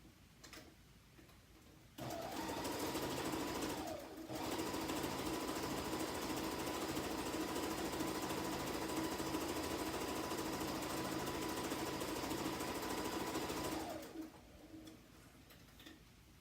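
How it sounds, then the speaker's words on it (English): A sewing machine runs a straight seam on a quilted Christmas stocking in one long, steady whirring burst. Quieter cooing of a pigeon or dove comes before and after it. "I'm just going to sew a seam straight down this area"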